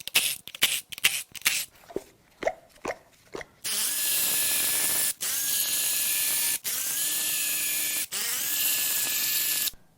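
A ratchet works on the ignition coils of a Hyundai/Kia 2.4 Theta II G4KE engine, first in quick separate clicks and knocks, then in several long, loud continuous runs of close ratcheting broken by brief gaps.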